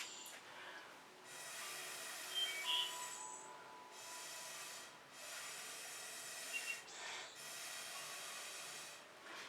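Breath blown across wet fluid acrylic paint to push it over the surface, heard as several long soft hissing gusts separated by short pauses, fairly quiet and close.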